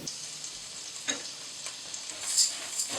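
Rice and vegetables in butter in a pan, a quiet, even sizzle with a few soft clicks and scrapes of a utensil, slightly louder clatter near the end.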